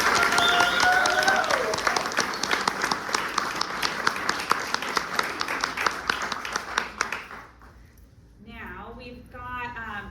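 An audience at a book launch for an author gives sustained applause, a dense clapping that fades out after several seconds before a voice begins speaking.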